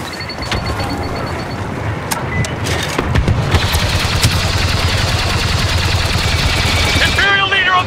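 A video game turret opens up with a sustained rapid stream of mechanical firing that grows denser and louder, steady and close, with a short voice near the end.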